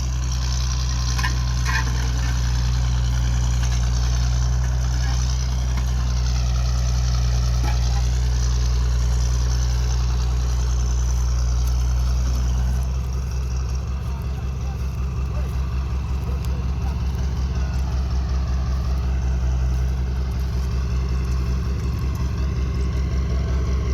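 A tractor engine drones low and steady while it plows land for planting. The rumble holds continuous throughout, and its pulsing grows a bit rougher partway through.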